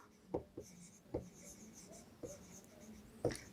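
Chalk or marker strokes on a board during a chemistry lesson, a handful of short scratchy taps and squeaks spaced irregularly against a quiet room.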